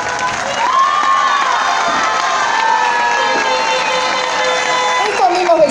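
Large carnival crowd applauding and cheering at a festival figure election, a dense, loud and steady wash of clapping and shouts filling the whole span, with scattered voices rising from within the mass.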